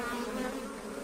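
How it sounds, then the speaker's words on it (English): African honeybees buzz steadily at a hive built inside a tree in the African bush, a dense, continuous drone heard close and alone. "African honeybees have built a hive inside a nearby tree"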